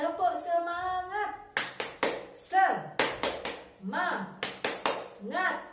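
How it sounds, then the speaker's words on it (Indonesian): A class of children chants a rhythmic clapping cheer, with sharp sets of hand claps alternating with shouted sung syllables in a steady, bouncy pattern. "mari kita lakukan tepuk semangat"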